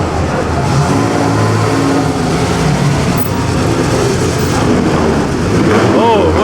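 A historic Ferrari at the 2007 Mille Miglia road race passes loud and close, its engine roaring and revving steadily, with crowd noise and voices mixed in behind it.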